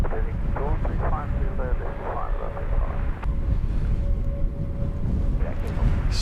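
A fixed-wing airliner departs London Luton Airport, its engines a loud, continuous broadband roar that holds steady throughout, with faint radio-like voice chatter and a thin tonal whine layered on top.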